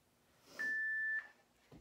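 A Tabata workout interval timer gives one clear, steady electronic beep lasting about half a second, loud against a quiet background.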